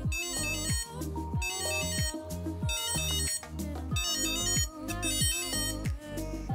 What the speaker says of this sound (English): Hey Siri, ring my Orbitkey.